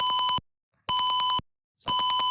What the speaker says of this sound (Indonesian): buzzernya akan terinterrupt atau ke berhenti